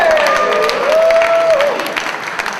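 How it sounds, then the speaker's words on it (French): Audience applause at a slam poetry competition fills the space, a steady wash of clapping from a crowd, with a sustained whistle-like tone sliding over it early on. "On applaudit la poète"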